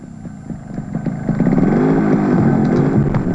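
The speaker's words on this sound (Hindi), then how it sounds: "अरे मेरी मोटरसाइकिल" A motorcycle engine revs with rising, throaty pitch and grows steadily louder over a few seconds, a continuous rasping drone with light mechanical clatter.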